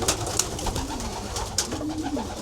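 Soft coos of young racing pigeons in a loft shed sound against a noisy, echoing background, with a few sharp knocks and rustles in between.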